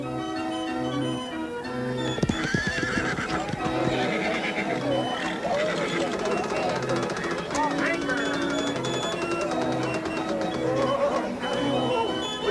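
A horse whinnies at a 1977 rodeo during bronc riding, with neighing heard among hoofbeats, music and voices of people talking throughout.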